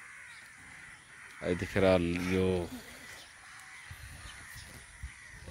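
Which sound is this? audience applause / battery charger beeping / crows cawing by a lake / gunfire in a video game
crows cawing by a lake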